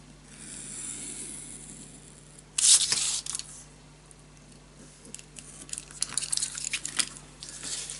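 Scissors cut off a paper hinge for a crystal-themed scrapbook mini album, a close sharp snip and rustle of paper, followed later by a run of quieter crinkling and cutting sounds, with no voices.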